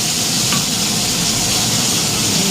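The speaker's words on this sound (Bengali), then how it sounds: "দাঁড়াও মাছটা হালকা ভাজছি মাছগুলো সব ভাজা হয়ে গেছে" Pieces of local katla fish fry lightly in a pan, producing a dense, steady sizzling hiss, close and uninterrupted throughout.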